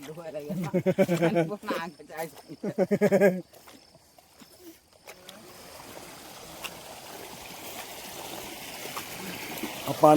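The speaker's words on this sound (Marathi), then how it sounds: "खळखळाट आहे सगळा" A stream gurgles and trickles in the dark during a nighttime crab hunt, a soft continuous burble that follows people talking nearby and builds gradually in the later seconds.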